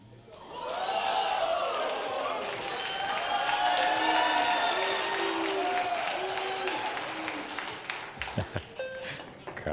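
A pool hall crowd at a professional billiards series event cheers and claps for several seconds, broad and sustained under a commentator's voice, fading into scattered claps and knocks.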